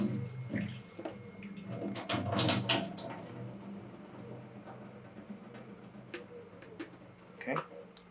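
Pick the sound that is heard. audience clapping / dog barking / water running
water running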